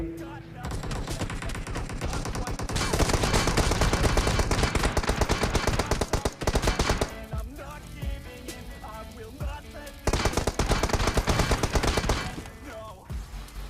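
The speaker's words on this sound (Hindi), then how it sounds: "ये भैया जी यहाँ पर मेरे पे बहुत ही गंदा फायर करते हैं" Heavy automatic gunfire from enemy players in a battle royale shooter game, including M4 fire, as loud rapid bursts rattle on almost continuously with a short lull midway before another intense spray.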